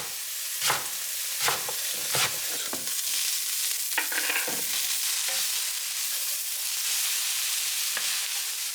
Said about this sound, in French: Je les ajoute dans mon wok de cuisson